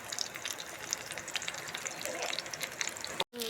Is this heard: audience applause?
no